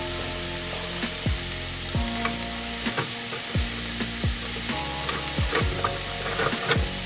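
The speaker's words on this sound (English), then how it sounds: "so I'm gonna start stirring" A spatula stirs chicken alfredo in a sizzling pan. A constant frying hiss carries a series of sharp scraping strokes at irregular intervals, close by and with no voices.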